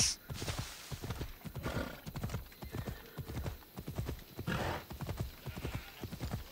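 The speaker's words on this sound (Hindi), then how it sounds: "चलो इसके घोड़े पे चल लेते हैं भाई," A horse gallops in Assassin's Creed Odyssey, its hooves beating a fast, rhythmic clip-clop that stays close and continuous, with a whinny early on and no speech.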